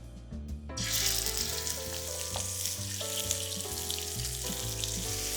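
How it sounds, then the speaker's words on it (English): Scallops searing in a smoking-hot oiled pan, a bright sustained sizzle rising suddenly after a moment of quiet, close up, with a low tonal hum beneath. "as long as you see a nice ripple of oil in the pan and I'm seeing some smoke coming off, you can go ahead and set your scallops in"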